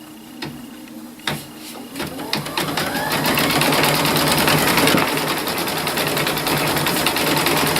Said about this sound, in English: Press this and you'll just see the machine do its work.